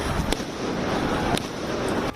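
Burning firecrackers thrown by protesters at police go off in a few sharp, scattered pops over a loud, constant roar of crowd noise and wind.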